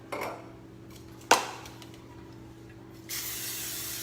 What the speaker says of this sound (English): We're going to spray it with Pam.